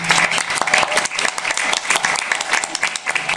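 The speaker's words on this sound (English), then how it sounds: "Please, one final round of applause for Alderman Yorby" An audience at a local short film showcase applauds an alderman, sharp individual claps crowding together into a lively, close round that carries on without pause.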